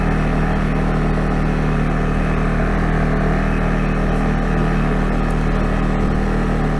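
A 2022 CFMOTO CFORCE 625 single-cylinder ATV engine runs loud and steady close by, a continuous low throbbing drone with a constant pulse and no gaps.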